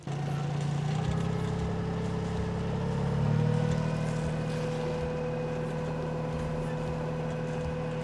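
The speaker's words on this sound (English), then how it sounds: "let's give her some more revs and see what that sounds like" A 32ft sailboat's engine drones steadily at low pitch, its hum rising slightly as revs increase around the middle, then settling into a constant throb.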